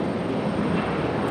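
An airliner departing on runway 23 right at Raleigh-Durham airport on a stormy day roars loud and steady for a brief moment, a dense unbroken engine noise with no talk.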